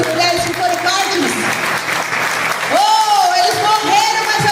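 A church congregation applauds during a sermon, sustained clapping running under a preacher's raised voice.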